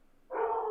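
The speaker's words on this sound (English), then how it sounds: "Sorry, that's my dog." A pet dog gives a single short, tonal bark at close range, alone and over almost no background sound.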